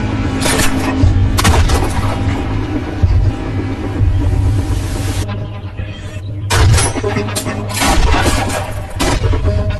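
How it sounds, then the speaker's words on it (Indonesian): A shootout inside a warehouse in an action film, with repeated loud gunshots and booming blasts over a rumbling score, dense and continuous with one short lull partway through. "terjadilah pertarungan di gudang Huut di mana si tampan Kim harus beradu skill menembak dengan wanita bertopeng"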